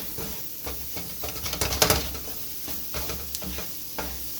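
A roux with bacon fat, butter and andouille sausage sizzling in a pan while being stirred, soft frying hiss under repeated scraping strokes, busiest around the middle, no voices.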